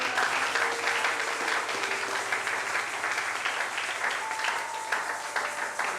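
A church congregation applauds during a sermon, with dense, sustained clapping from a sizable crowd that holds steady throughout, a few tonal sounds drifting beneath it.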